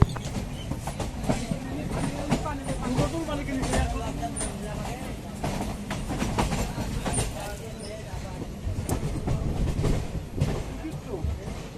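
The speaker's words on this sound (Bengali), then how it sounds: "Barrackpore two Dumdum train journey five three one seven eight down Lalgola Sealdah passenger special" The 53178 Down Lalgola–Sealdah Passenger Special runs between Barrackpore and Dum Dum, its rolling rumble and rhythmic wheel clatter heard from on board with voices talking over it.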